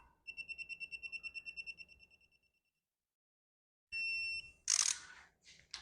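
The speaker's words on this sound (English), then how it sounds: "set the torque wrench to 45." A torque wrench set to 45 tightens small block Chevy cylinder head bolts. A rapid run of short electronic beeps fades out, a steady tone sounds after a silent gap, then a sharp metallic click and clatter follow close by.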